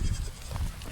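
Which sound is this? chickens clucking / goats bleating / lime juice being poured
goats bleating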